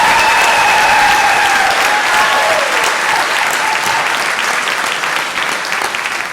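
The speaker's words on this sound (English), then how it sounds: "applause." Sustained, loud audience applause fills an 8th grade rising ceremony, a dense wash of clapping that holds steady throughout and eases slightly toward the end.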